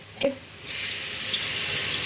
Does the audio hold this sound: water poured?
yes